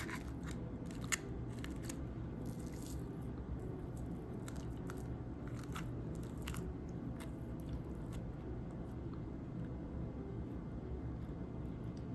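Crispy fuchka (Kolkata-style panipuri) shells being bitten and chewed up close, with repeated sharp crunches scattered over a steady low background hum, no talking.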